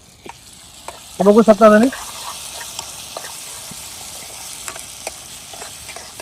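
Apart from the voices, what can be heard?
stirring fried onion and tomato in a pan for egg biryani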